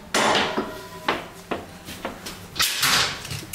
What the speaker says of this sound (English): Let me open that door.